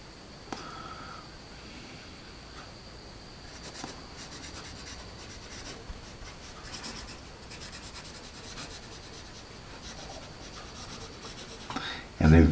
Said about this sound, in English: a very comfortable pencil to write with